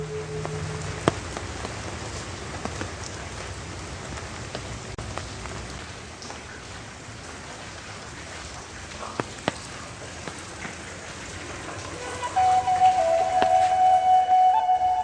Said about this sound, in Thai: คิดถึงบรรยากาศ ฝนพรำๆอย่างนี้ครับ